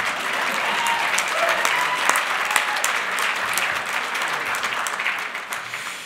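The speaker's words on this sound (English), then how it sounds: "let's have a round of applause for his beard" Audience at a business awards ceremony applauding a minister's beard, loud sustained clapping with sharp individual claps standing out, a faint murmur beneath, fading slightly near the end.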